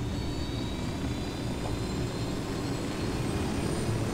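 A helicopter flying in the video game Ghost Recon Wildlands gives a loud, steady engine and rotor roar that fills the whole stretch without letup. No one speaks over it.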